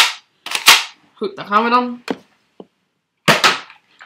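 A Nerf Zombie Strike Sidestrike blaster fires a single loud, sharp shot up close. Someone speaks Dutch before and after it.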